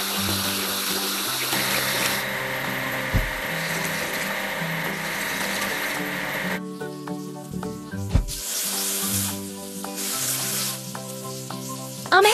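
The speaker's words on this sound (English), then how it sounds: "We need to wash the locomotive." Water sprays and hisses steadily while washing a locomotive in a construction video game, cutting in and out in bursts, with short game-like thumps and tonal effects layered over it.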